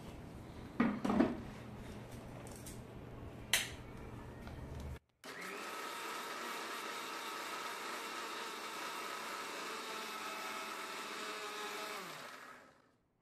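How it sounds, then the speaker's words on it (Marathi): A mixer grinder blends mango pulp for aamras. A few clinks and knocks come first, then after a brief pause the motor runs at a loud, steady whir for about seven seconds before stopping. "आता आपण ते मिक्सर मध्ये फिरवूया"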